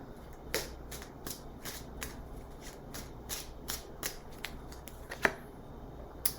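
Tarot cards shuffled by hand in a quiet room, a run of quick crisp riffling flutters and soft slaps repeating at a steady pace, close and clear with no talking.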